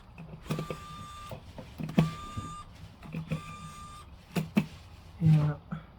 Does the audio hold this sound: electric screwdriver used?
yes